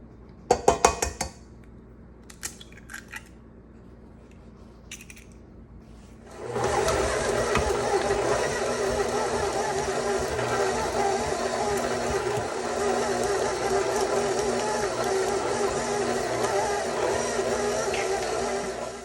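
A stand mixer with a paddle attachment working eggs into dough, first a few clinks and taps of metal and glass, then the motor starts and runs steadily with a whirring, rattling drone that continues to the end.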